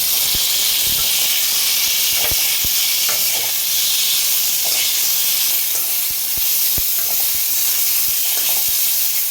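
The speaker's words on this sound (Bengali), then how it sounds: "পেঁয়াজটা আমার হালকা করে ভাজা হয়ে গেছে" Onion pieces fry in hot oil for a Bengali cauliflower do pyaza, giving a steady bright sizzle and hiss with scattered sharp pops and crackles, close and continuous with no talking.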